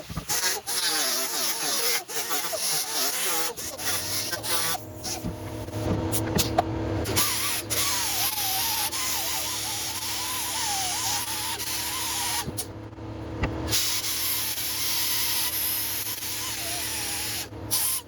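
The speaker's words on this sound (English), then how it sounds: "I'm going to hit it with the 35 grit and the" Grinder with a 35 grit 3M Roll Lock disc sanding a motorcycle fairing on a Honda CB650R, a loud whining motor with rising and falling pitch, bursts of abrasive grinding and short pauses, with some voice heard.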